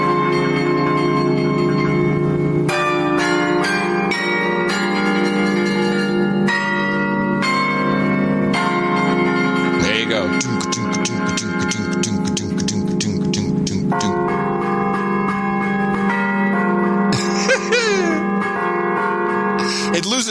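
Carillon church bells ring out a song, struck notes overlapping and ringing on, with a fast run of repeated strikes midway, loud and continuous.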